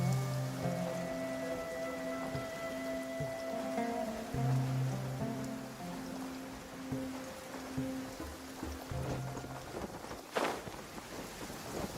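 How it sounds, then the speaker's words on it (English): Rain patters steadily in the Genshin Impact game world, a soft continuous hiss with light footsteps, a low humming game tone underneath and a sharp louder hit near the end. "It's raining again?"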